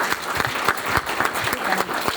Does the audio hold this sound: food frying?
no